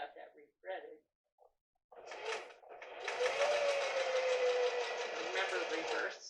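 A sewing machine stitching silk or satin fabric: brief speech, then a steady, close mechanical whir of stitching that starts partway and runs continuously to the end.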